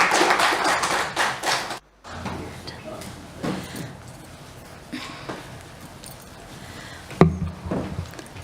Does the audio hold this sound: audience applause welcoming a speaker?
yes